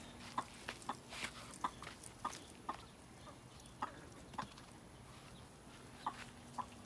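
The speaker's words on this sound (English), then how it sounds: "Making all that cluck, cluck." Chickens cluck in short, repeated bursts at an uneven rhythm, fairly quiet against a soft background.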